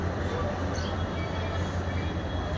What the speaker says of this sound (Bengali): ট্রেনটি এখন আসতেছে।